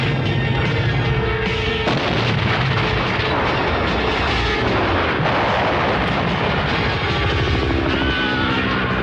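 A cartoon weapon fires in a 90s animated James Bond Jr episode near the Eiffel Tower, with loud continuous booming blasts and rumbling like artillery, dense and sustained across the whole stretch without speech.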